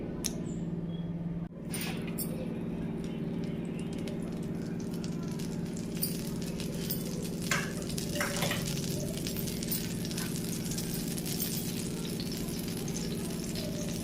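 Chana dal, urad dal, mustard seeds, cumin and fenugreek frying in hot oil as a tempering for eggplant yogurt chutney: a steady, close, continuous sizzle with scattered small crackles and pops throughout.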